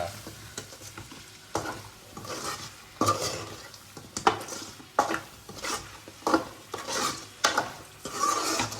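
Ginger paste and tomato being stirred into a chicken curry in a pot, with repeated sharp spoon-on-pan scrapes and clanks in an uneven rhythm over a low sizzle, close and fairly loud.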